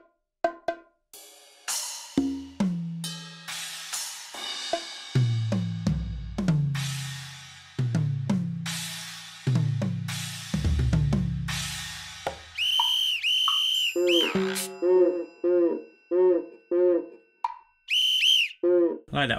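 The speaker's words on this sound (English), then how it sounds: "The first one is percussion and it does exactly what it says on the tin." Spitfire LABS percussion plugin demo: a run of close, dry hits (deep booming drums, knocks and plops) that gives way to rapid tuned bell-like and whistling pitched strikes.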